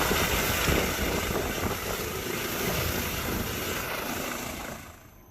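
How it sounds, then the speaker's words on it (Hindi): Helicopter rotor and engine roar, loud and steady at close range, as it sets down on a road during a flood rescue in Maldevta, Uttarakhand, fading slightly at the end. "बीच रोड पर खतरे के बाद भी हेलीकॉप्टर को लैंड करवाया गया"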